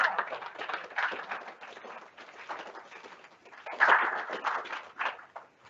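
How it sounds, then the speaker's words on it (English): An audience at a water industry summit gives its chair a round of applause: fairly soft, scattered clapping that swells briefly near the end before fading out within six seconds. "I think also our chair needs a round of applause."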